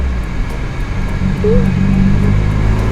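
A manual transmission car's engine hums low and steady from inside the cabin as it drives in second gear, with a brief higher whine midway and a constant road rumble underneath.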